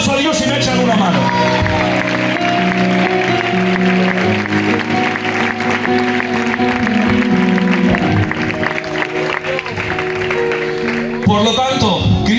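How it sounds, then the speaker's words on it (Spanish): Church congregation applauding and cheering to God during a service in Galicia, a loud, continuous roar of clapping mixed with shouts and voices that runs unbroken for about twelve seconds. "le dan un fuerte aplauso a Dios"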